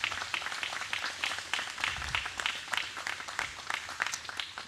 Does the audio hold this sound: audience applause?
yes